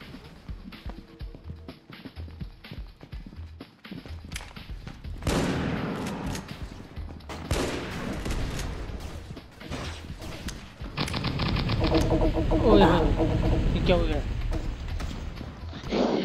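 Rapid bursts of gunfire in a shooter video game, with dense overlapping shots and mechanical clatter that swell louder toward the end, mixed with game sound effects.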